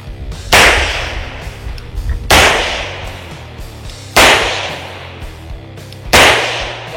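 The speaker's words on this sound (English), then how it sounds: "Listen to my gun." Four loud, sharp gunshots ring out about two seconds apart, each a sudden close crack with a long echoing tail, in an open shooting setting.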